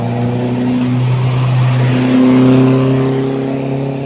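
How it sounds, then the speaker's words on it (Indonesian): A car engine revs hard on a steep mountain road, giving a loud, sustained droning hum close by that swells slightly in the middle, with no voices over it. "Mantap juga mobil itu, guys."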